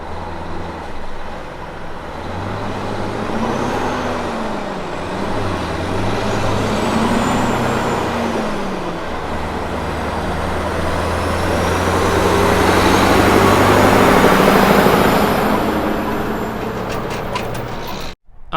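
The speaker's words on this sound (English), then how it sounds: "getting a clean shot of the Value-Liner taking off from a standing start" A Value-Liner truck pulls away from a standing start at traffic lights heading north out of Adelaide, its loud engine climbing through the gears with rising and falling pitch as road noise swells.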